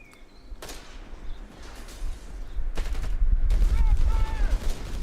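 Heavy machine gun fire in Company of Heroes 3 crackles in several sharp bursts amid a battle rumble, with explosions and other battlefield noise building in the background.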